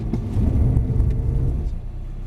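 A Mercedes-Benz car braking hard from 40 with ABS on a driving experience track, heard from inside as a steady low rumble of road and engine noise that fades slightly toward the end, with no talk.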